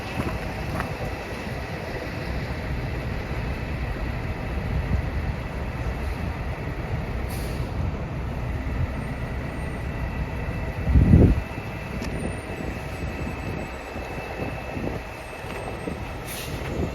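A Toronto 503 Kingston streetcar rolls past outdoors, a steady low rumble with wind buffeting the microphone and a brief louder clatter midway.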